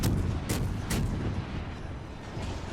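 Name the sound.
torpedo shot in the video game World of Warships Legends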